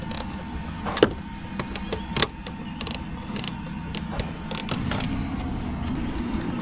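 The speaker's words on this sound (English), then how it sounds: "there's a 10 mm bolt here which you need to remove" Faint ratcheting clicks in short bursts as a 10 mm bolt is loosened from the lower dashboard of a second-generation Lexus RX 350 AWD, quiet and close with no talk.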